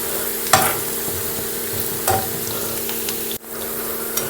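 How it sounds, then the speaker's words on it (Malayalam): Sliced onions fry in ghee until crispy for Malabar-style ghee rice, giving a steady moderate sizzle with a few louder stirring scrapes and one sudden brief dip. "ഈ സവോള ഒന്ന് നല്ല ക്രിസ്പി ആവുന്നവരെ ഒന്ന് ഫ്രൈ ചെയ്യുക"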